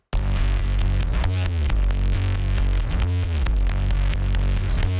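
A heavily processed bass guitar drones thick and loud, its distorted, effected tone rumbling continuously with rhythmic pulses and no voices.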